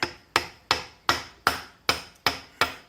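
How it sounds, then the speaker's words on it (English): Eight evenly spaced, sharp metallic hammer blows ring out close and alone, each decaying quickly, while the input shaft is driven out of a 1986 Toyota Tercel wagon transmission. "Now we're going to go ahead and pop this input shaft out"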